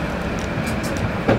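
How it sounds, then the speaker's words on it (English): A Moscow metro underground train rolls along in a steady loud rumble with a dull thump near the end, with no voices over it. "a woman at the controls of an underground train"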